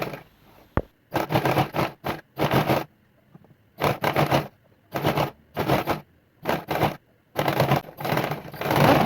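A sewing machine stitches the seam of a ruffled wrap skirt with a half-inch allowance, loud and close, running in repeated bursts of a second or so separated by short pauses.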